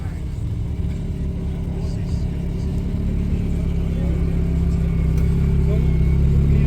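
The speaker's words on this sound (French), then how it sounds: "je vais quand même filmer une Alpine A110 GT" An Alpine A110 GT drives by with a steady, low engine rumble that swells gradually louder toward the end, heard from the roadside over a constant background drone.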